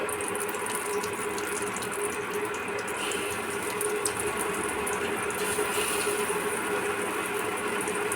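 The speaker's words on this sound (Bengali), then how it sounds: "আমার তেল তো গরম হয়ে গেছে এবার আমি একটা একটা করে পকোড়াগুলোকে ছাড়ি" Lentil pakoras dropped one by one into hot oil, sizzling steadily with a dense, even crackle that carries on without a break.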